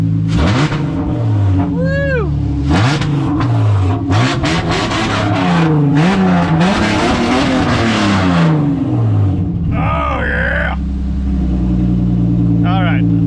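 Engine of a Nissan Xterra race truck running close by and revving repeatedly, its pitch sweeping up and down in bursts over a steady running drone, with a voice speaking briefly over it.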